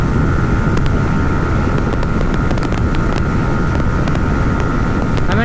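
A TVS Apache 160 4V motorcycle cruising in sixth gear at high speed produces a constant loud engine drone, buried under heavy rushing wind buffeting the microphone throughout.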